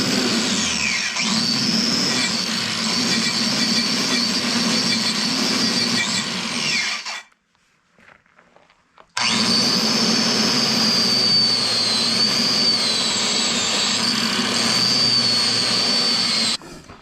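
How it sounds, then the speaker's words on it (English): A wire brush scrubs rust off chrome wheels with a harsh, continuous hissing scrape, loud and close, in two long passes separated by a brief pause. "The stuff that wasn't coming up with the nylon brush, coming up pretty good with the wire brush."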